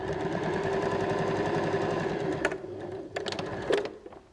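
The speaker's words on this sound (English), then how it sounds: "Normal straight stitch to join your pieces." A sewing machine runs a straight stitch joining fabric pieces for a knot strap bag handle, giving a fast, even mechanical whirr that stops after a couple of seconds, followed by a few light clicks and handling knocks.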